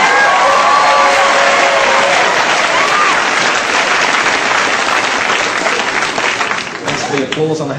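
A comedy-show audience breaks into loud sustained applause and cheering after a vocal helicopter imitation, a dense wash of clapping with voices mixed in that eases slightly toward the end.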